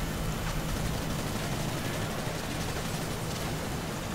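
Heavy gunfire in a Call of Duty: Modern Warfare 3 firefight on a London street at night. A dense, continuous roar of shots rattles on without pause at a steady loud level.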